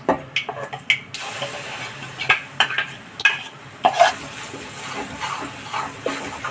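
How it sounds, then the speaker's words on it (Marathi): A spoon stirs thick, seasoned flour batter in a pan over low heat, making repeated scraping and squelching strokes in an uneven rhythm over a soft background sizzle, close by. "बारीक याच्यावर हलवत राहायचं. हे बाय असं घट्ट हलवत राहायचं सारखं,"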